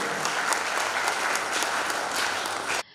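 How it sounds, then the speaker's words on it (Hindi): Audience applause at an association event in Indore, a dense burst of clapping from many hands that sustains evenly and then cuts off abruptly near the end. "एक पूरे एसोसिएशन को जोरदार तालियों से सम्मान करें, अभिनंदन करें"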